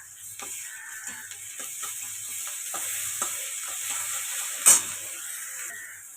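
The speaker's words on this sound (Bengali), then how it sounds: "ভালো করে পেঁয়াজটাকে ভাজতে থাকবো।" Onion and garlic fry in a pan with a steady, moderate sizzle, broken by soft stirring knocks and one sharper clatter near the end; no voices.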